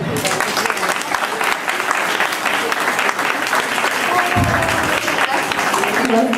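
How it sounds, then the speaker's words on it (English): Audience applause at a Rathyatra festival in Stratford, Connecticut: a sustained wash of clapping from a crowd, loud and continuous, with voices mixed in underneath. "I think we can do better with a round of applause"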